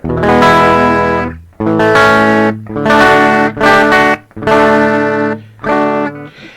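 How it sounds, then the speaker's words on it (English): A budget DIY electric guitar with a hot pickup plays through a distorted, chorus-tinged effects chain, ringing out several loud sustained chords in a halting sequence with short gaps between strums. "as you hear on this guitar, this pickup here is pretty hot"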